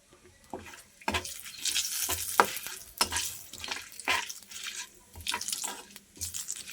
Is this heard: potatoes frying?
yes